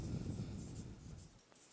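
A pen scratches on paper during a Hindi literature class, quiet, brief strokes in a hushed room that fade near the end.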